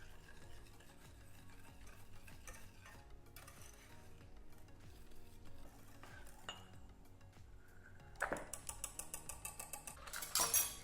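Cake batter of egg and self-raising flour being whisked and mixed around the corners of a pan, a steady near scraping and stirring with light metallic clinks that grow louder and sharper toward the end.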